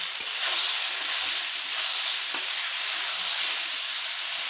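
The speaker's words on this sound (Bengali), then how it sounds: "সিম বেগুন ভাজা হতে হতে আমি মশলাটাকে রেডি করে নেব" Flat beans and eggplant keep frying in hot oil for a pabda fish curry, producing a constant dense sizzle close by, with faint clicks from stirring.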